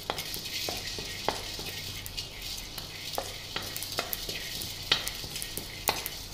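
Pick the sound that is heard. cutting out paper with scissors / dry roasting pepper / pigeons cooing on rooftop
dry roasting pepper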